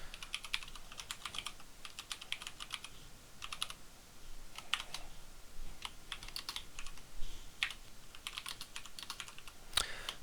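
Java code being typed on a computer keyboard, with steady bursts of clicking keystrokes in quick irregular runs and short pauses between them, fairly close and alone with no talking.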